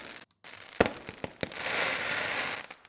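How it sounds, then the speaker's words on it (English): A few sharp fireworks pops crack out, followed by a sustained crackling, sizzling burst that fizzles away. "Another clip I wanted to try to see what it would do is fireworks"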